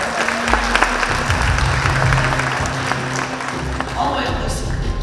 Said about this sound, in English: Quick clap for Lisa.